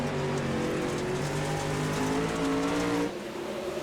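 Dirt late model race cars roaring around a dirt track during a pro late model series race, a sustained loud engine drone with a throttle lift near the end, heard from the stands.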